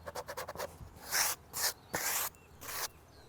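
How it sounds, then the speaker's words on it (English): Several quick light rubbing strokes with a sanding sponge, then four longer raspy sanding passes on exterior wooden window trim, close and moderately loud with short pauses between. "I'm gonna take that sanding sponge and just give this a light sand."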